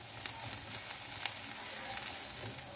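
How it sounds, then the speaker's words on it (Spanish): Onion sautéing in olive oil in a pan gives a steady, soft sizzle with faint crackles and a few brief spikes, quiet and continuous with no voices. "Que se siga rehogando."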